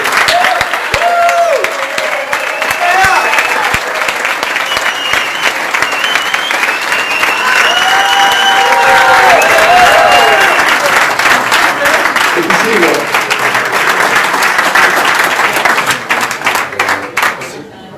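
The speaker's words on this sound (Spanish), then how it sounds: "ahora sí vamos a ponernos de pie y vamos a darle un fuerte aplauso a Mr. Ross Medley." A standing conference audience gives a long, loud round of applause after a speaker's introduction, dense steady clapping with cheers and voices mixed in, fading near the end.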